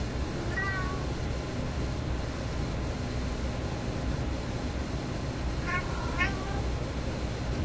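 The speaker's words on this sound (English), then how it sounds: "Yes, Tabby, my oldest cat is in here." A domestic cat meows twice, short and fairly faint, over a constant hiss of white noise in a room with an old vacuum tube radio, with a longer gap between the two cries.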